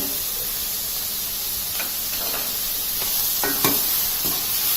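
Beetroot pieces dropped into a hot pan of Mumbai-style pav bhaji with tomatoes, giving a steady loud sizzle and hiss with a few sharp crackles and pops scattered through, no talking.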